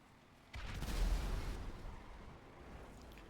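A loud, booming burst of gunfire in a role-play video game, one heavy blast with a rumbling tail that slowly fades.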